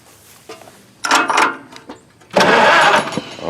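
An old Farmall tractor left overgrown has its engine cranked, with short grinding bursts of the starter turning the motor over, loud and close, separated by brief pauses.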